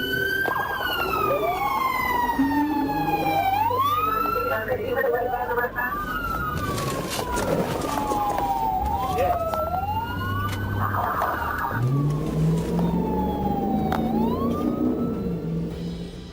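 A police siren wails loudly and continuously, its pitch sweeping up and down, with traffic rumble and bits of voices underneath.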